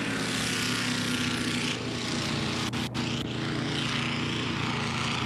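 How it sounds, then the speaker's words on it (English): A racing hydroplane boat engine roars loudly and steadily throughout at the Columbia Cup races, throaty and continuous, with a brief dip near the end. "A little bit different throaty sound to this boat."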